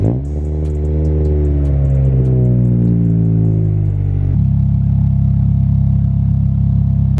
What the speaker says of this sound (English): This thing starts up and idles a little bit funny.